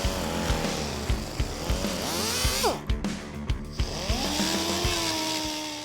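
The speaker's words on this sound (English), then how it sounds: "To further smooth out the finish, a cartridge roll comes next." A cartridge roll spins against the deck surface of a 410ci stroker Windsor engine block, giving a loud, steady power-tool whine with rhythmic grinding pulses and pitch sweeps as pressure shifts.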